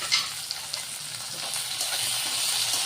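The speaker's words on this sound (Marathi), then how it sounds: "टमाटर शिजायचं थोडंसं 1 मिनिटापर्यंत।" Chopped tomato, onion and green chili cooking in a pan give a steady, moderate sizzle and crackle up close, with a few sharper pops and no talk.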